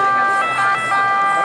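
An ambulance siren wails loudly and continuously as it passes through a crowd at Piazza di Spagna, Rome, steady tones holding throughout with some background voices mixed in.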